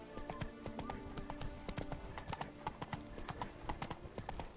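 Horse hooves from The Witcher 3 clip-clop in a fast, steady galloping rhythm, loud and close throughout, with a faint voice briefly under it.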